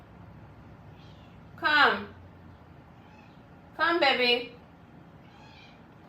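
A pet cat that may be unwell meows twice indoors, two loud, drawn-out, wavering cries a couple of seconds apart, with a person speaking softly nearby.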